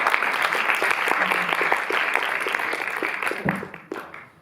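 Cinema audience at a film presentation applauding, a dense, even wash of clapping that thins and fades toward the end.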